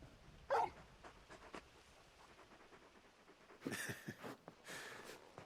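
Dog in Final Fantasy XVI gives short whimpers and soft panting, faint and close, with a few louder breathy bursts toward the end.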